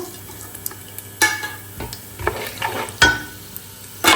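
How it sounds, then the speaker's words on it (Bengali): Garam masala spices hitting hot mustard oil and olive oil in a pan for tehari, soft crackling sizzle punctuated by several sharp utensil scrapes and clatters against the pot, close and without speech. "এখন বেশি করে গরম মশলাগুলো দিয়ে দিব"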